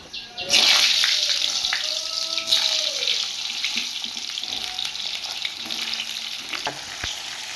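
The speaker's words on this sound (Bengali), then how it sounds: "এবার আমি পটলগুলো দিয়ে দিলাম।" Pieces of pointed gourd drop into hot oil spiced with whole garam masala and burst into a loud, close sizzle that settles to a steady frying hiss, with faint clinks and stirring scrapes from the pan.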